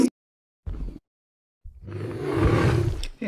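A cartoon tiger gives a deep growl, pauses, then lets out a long roaring snarl that builds to a loud peak and trails off, close and forceful, with no voices over it.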